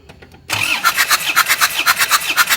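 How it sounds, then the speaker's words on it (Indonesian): An Isuzu Panther engine cranks on its starter during a compression test: after a half-second of quiet, a loud, steady run of rhythmic starter-and-compression pulses follows, close and alone. "Coba kita starter lagi seperti apa, kita tingkatkan lagi"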